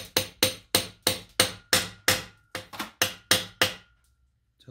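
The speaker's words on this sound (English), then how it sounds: "And then you just tap in with a hammer now." Sharp, evenly spaced hammer taps drive a driveshaft seal into a Mercury Alpha One upper gearcase, about a dozen close, loud metallic strikes, each ringing briefly before the next, then quiet.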